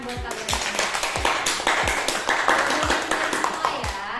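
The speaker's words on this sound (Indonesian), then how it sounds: "beri tepuk tangan buat kalian." Students in a classroom clap their hands together in a loose, roughly regular rhythm, sharp claps repeating about twice a second, with children's voices underneath.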